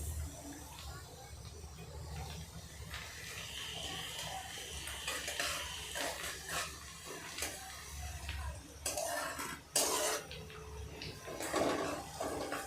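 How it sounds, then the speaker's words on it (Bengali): A utensil scrapes and clinks against a pan while spices, black cumin and mango pickle fry and stir, with a soft sizzling hiss underneath and a few sharper metallic knocks near the end. "এবার এক দেড় মিনিট একটু নাড়াচাড়া করে নেব"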